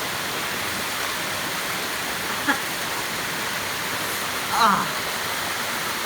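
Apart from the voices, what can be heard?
river waterfall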